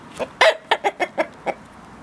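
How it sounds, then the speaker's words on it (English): A chicken near ancient Roman temple ruins gives a quick run of about seven clucks, close and distinct, with no talk over it. "Hey chicken"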